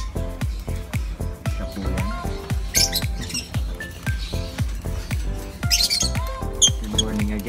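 A pet bird at home chirps and squawks in quick, repeated calls close to the mic, with a voice and other household noise mixed in.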